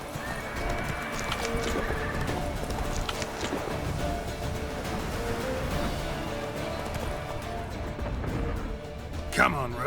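Roach the horse from The Witcher 3 video game gallops with steady clip-clopping hooves and a brief whinny, set within a dense game soundscape of music and ambience, with a sharp burst near the end.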